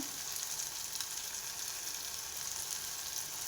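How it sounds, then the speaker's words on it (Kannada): Chopped tomato fries in a pan for upma, giving a steady, soft sizzle and crackle that runs evenly throughout with no talk. "ಇದನ್ನು ಅಷ್ಟೇ ನೀಟಾಗಿ ಫ್ರೈ ಮಾಡಬೇಕು"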